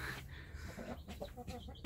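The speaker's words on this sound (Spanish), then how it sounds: "me gusta verlos así, ver a la gallina con sus pollitos" A mother hen clucks softly among her newly hatched chicks, with short repeated low clucks and faint peeping close by at low volume.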